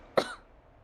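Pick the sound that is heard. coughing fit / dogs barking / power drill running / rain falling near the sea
coughing fit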